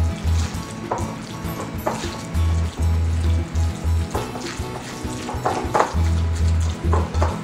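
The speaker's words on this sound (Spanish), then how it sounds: "Vamos a revolver bien" A spoon stirs a beef marinade for chow fun in a bowl, giving repeated wet sloshing scrapes in an irregular rhythm, close and fairly loud, with no talking.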